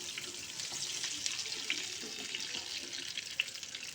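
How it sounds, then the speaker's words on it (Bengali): Rohu fish pieces, already rubbed with salt and turmeric, fry in a pan with a steady soft hiss and a few small pops, faint and continuous with no voices. "এগুলোকে একটু ভেজে নেব"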